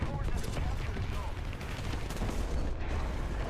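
Tank cannon and machine-gun fire from the War Thunder game, with a Char FCM 2C heavy tank engaging an M405, rumbling as dense, continuous low-heavy battle noise with overlapping shots throughout.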